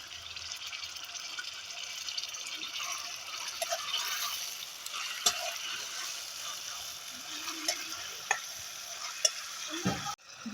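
Onion, curry leaves and tomato fry in oil for stuffed eggplant curry, giving a faint, steady sizzle with scattered stirring clinks and scrapes of a spoon against the pan.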